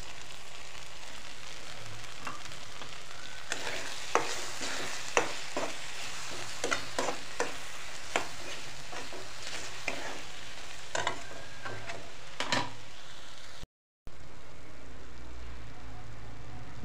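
Tikka masala spice is stirred and fried in a pan for paneer and peas, giving a steady close sizzle broken by repeated scraping strokes of a spoon, with a brief dropout near the end.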